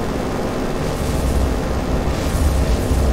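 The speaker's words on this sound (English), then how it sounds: "Get ready for the strafing run. Yes! Come on, let's see some booms." Heavy explosions from a strafing run by aircraft in the naval war game War on the Sea, a dense continuous rumble of booms and blasts, loud and close throughout.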